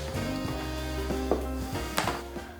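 A knife chops onions on a board for a potato boulangere, a few sparse, distinct knocks spaced over a steady low kitchen hum, close by with no talk.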